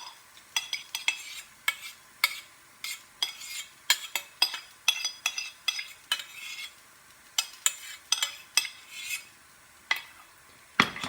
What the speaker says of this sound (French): J'égoutte les carottes.